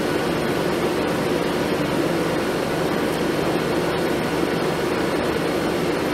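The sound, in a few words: Crest (Fedders) portable air conditioner running on low cool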